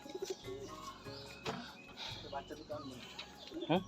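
Pigeons coo in low, repeated bursts at a loft of high-flying breeding pigeons, with a voice talking over them and some chirps and wing noise mixed in.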